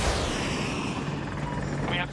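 Hind attack helicopter in the video game Battlefield 2042, a continuous thudding rotor rumble mixed with dense battlefield noise, with talk heard over it.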